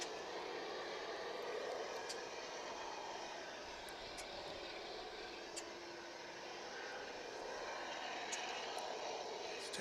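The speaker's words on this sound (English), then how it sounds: "MD-11 cargo jet." MD-11 cargo tri-jet engines at DFW International Airport, a steady, broad, distant roar holding evenly throughout with no talk over it.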